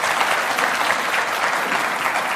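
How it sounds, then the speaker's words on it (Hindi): Audience applause at a televised Hindi news debate show, a dense, steady burst of many hands clapping at even loudness throughout, with no voices standing out. "तालियां बजाइए भाई"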